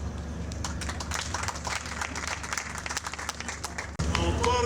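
Audience applause at an agro-industrial and crafts fair in Butembo, DR Congo: a dense, steady wash of many hands clapping that runs throughout, briefly dipping near the end before swelling again, loud and close.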